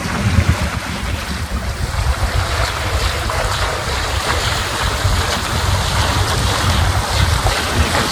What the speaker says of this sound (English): See the surf breaking.